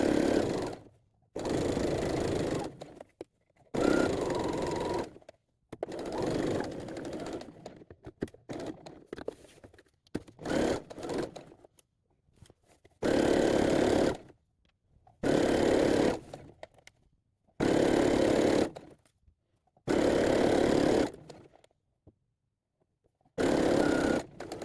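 A sewing machine stitches pockets onto a pinafore dress in repeated short bursts of close, steady mechanical whirring, each lasting one to three seconds and separated by brief pauses and quieter handling noises.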